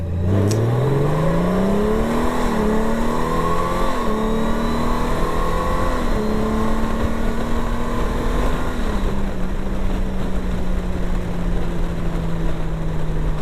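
A 2024 Honda Goldwing trike engine revs up and accelerates, its loud droning pitch climbing through several gear changes before settling into a steady cruise.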